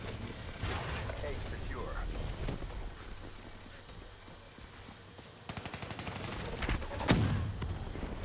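Scattered gunfire from a Black Ops 3 multiplayer match, fairly faint and mixed under a player's ongoing commentary, with a cluster of rapid shots near the end.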